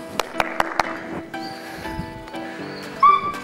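A small, playful female dog gives several short, sharp yips and barks in quick bursts during a leash and walking training session, with a few whimpers and squeaks mixed in over a background of faint voices and movement.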